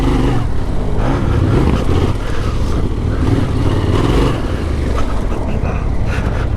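A Yamaha Tenere 700 adventure motorcycle rides along with a loud, steady engine drone mixed with rushing wind noise. The sound stays close and constant throughout.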